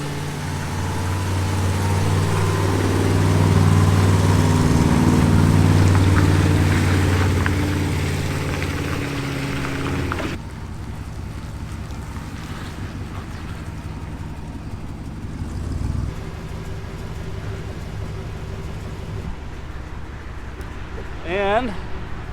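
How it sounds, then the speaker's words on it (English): A fire truck drives along with a steady loud engine drone and road rumble, the engine note shifting as it changes speed, with a few brief knocks and a squeal near the end. "We're back again in the fire truck, headed to the water plant."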